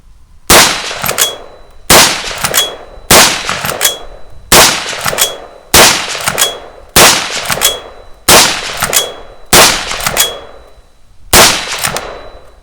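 Nine single shots from a Schmeisser SP15 straight-pull AR15 carbine firing live rounds crack loudly and close, spaced about a second and a half apart, each followed by a ringing metallic clang of a steel target.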